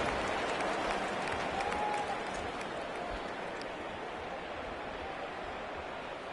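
A home stadium crowd at an Eagles vs Commanders football game roars and applauds after a 31-yard gain, a dense, steady wall of cheering and clapping that holds loud throughout.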